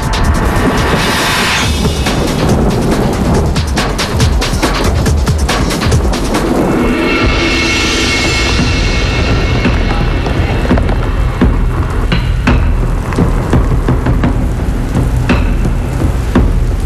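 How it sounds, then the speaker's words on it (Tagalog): Heavy rain pours steadily with gusts of wind, a dense continuous roar with occasional crackling bursts throughout. "Lumalakas na ang ulan, may kasamang hangin."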